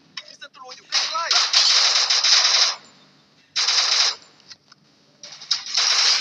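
Gunfire rings out in the video game Free Fire in several loud, rapid bursts separated by short pauses, with a few brief metallic clicks between them.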